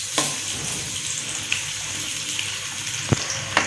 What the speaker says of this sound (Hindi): घी गर्म हो गया, अभी प्याज डाल देते हैं। 2 अदद चॉप किए प्याज डाल देते हैं